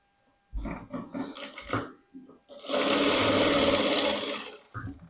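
A sewing machine stitches a blouse cup (katori), running in a loud, close, continuous whir for about two seconds after someone speaks over some shorter machine noises.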